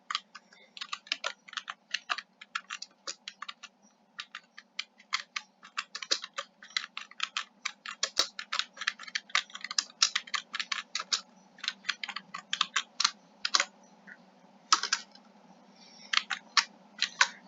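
Fingers tap steadily on a computer keyboard, close and crisp, in quick irregular bursts with short pauses between words, over a faint constant hum and no talking.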